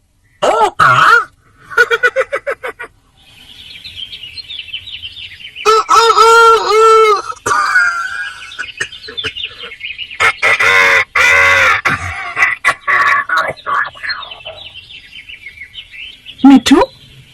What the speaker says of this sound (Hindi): ओह तोता, बहुत प्यारा है।